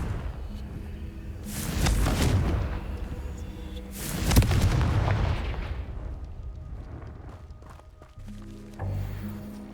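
Two fiery Confringo spell blasts in the Hogwarts Legacy video game, each a loud booming explosion with a crackling tail, about two seconds apart, followed by quieter game effects.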